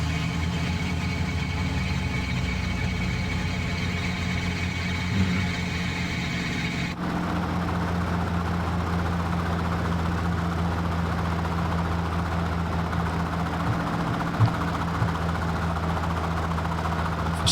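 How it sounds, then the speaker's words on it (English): A Robinson R44 Raven II helicopter engine in Flight Simulator 2020 runs with a steady droning hum, its tone shifting abruptly partway through to a broader, rougher whine that then holds steady, with no talk. "So we're gonna start the engines again."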